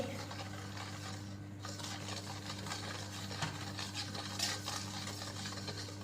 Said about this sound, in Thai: เราจะคนให้ส่วนผสมเข้ากันนะคะ แล้วก็น้ำตาลละลายค่ะ